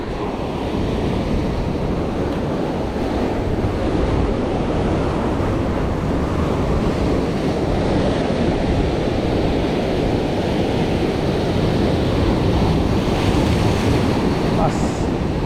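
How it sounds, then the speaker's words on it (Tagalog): Ocean waves surging and breaking continuously at a fishing spot, a steady loud wash of surf mixed with wind buffeting the microphone throughout, no clear pauses between swells. "Alon"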